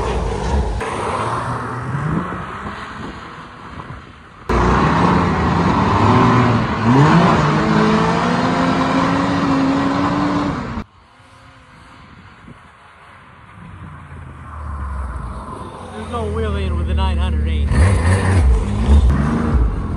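A 2019 Can-Am Renegade XXC, a BRP all-terrain vehicle, is ridden on a test spin. Its engine revs loudly and rises in pitch through acceleration, then drops to a quieter idle or distance before the engine swells up again near the end.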